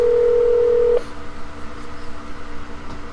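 A Google Home placing a phone call gives a loud, steady dialing tone for about a second that cuts off abruptly, followed by a quiet low room hum.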